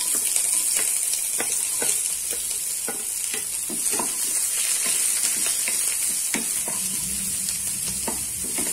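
Onion and curry leaves sautéing in a pan after garlic has browned: a constant sizzle with regular scraping and tapping clicks from stirring, close and clear, with no voices.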